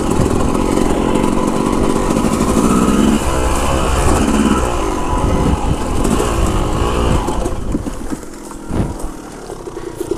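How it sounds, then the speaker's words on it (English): A motorcycle engine revs hard and steadily up close as the rider pulls wheelies, a loud, continuous buzzing roar that eases off and fades somewhat toward the end. "girl just wants to pull wheelies."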